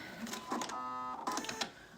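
A sewing machine runs steadily for about half a second, stitching a second row of ease stitching on a garment sleeve, with a steady mechanical hum between brief handling noises.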